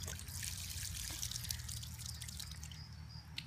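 Water from a garden hose trickles and drips steadily nearby at low level, a continuous splashy patter with no talking.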